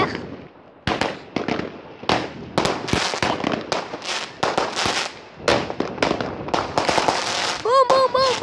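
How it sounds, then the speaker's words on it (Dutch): A dense barrage of loud firecracker bangs pops and crackles almost continuously, ending with whistling rockets; voices can be heard underneath. "Wat een klapper zeg!"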